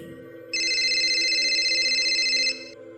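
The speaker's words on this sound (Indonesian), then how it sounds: "ada telepon masuk yang berdering di ponselnya" A mobile phone rings with a steady electronic trilling tone that lasts about two seconds, loud and close, over a faint low hum, with no talking.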